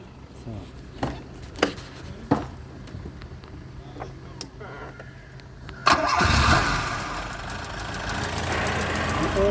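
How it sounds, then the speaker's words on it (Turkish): A 1993 Kartal car engine, freshly rebuilt, cranks with a few sharp clicks, then catches and roars into a steady idle, loud and close. "aracı çalıştıracağım"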